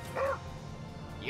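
Ragnarok the dog barking in Valkyria Chronicles 4: two short, near yips, one at the start and one at the end, with a brief spoken word between them.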